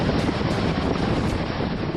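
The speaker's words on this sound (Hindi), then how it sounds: "उफान की आवाज डरावनी थी" A flooded river in Kutch, swollen by days of rain, surges with a loud, continuous broadband roar, dense and unbroken throughout with no voices.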